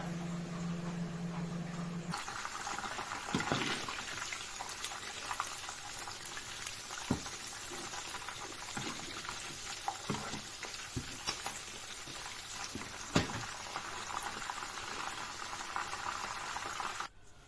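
A steady, dense sizzle of chicken deep-frying in oil in a pan fills the scene, broken by occasional soft clicks and pops; no one speaks.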